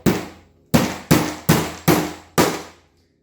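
Hammer striking a nail, six sharp close metallic blows with ringing decay, the first two spaced apart and then four in a steady rhythm, no talk.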